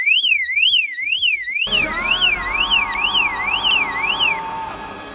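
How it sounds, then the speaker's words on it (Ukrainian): A loud motorcycle-cover anti-theft alarm shrieks close by, its pitch sweeping up and down rapidly and continuously, with a rattling noise joining partway through. "Вищить така штука раза в три гучніше, чим сигналізація на замку"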